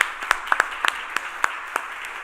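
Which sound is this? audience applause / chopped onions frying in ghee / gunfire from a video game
audience applause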